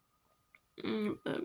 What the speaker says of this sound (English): burp again